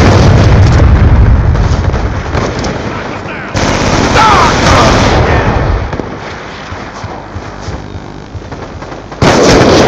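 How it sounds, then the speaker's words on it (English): Grenade blast and bursts of gunfire in a video game, loud and dense with booming impacts and rapid shots throughout, a sharp new burst near the end, with a voice talking over the action. "Throwing grenade!"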